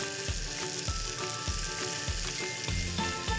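Vegan French toast made with plant-based egg cooks slowly in a pan with a steady close sizzle, broken by several regular soft thumps or scrapes. No talking is heard.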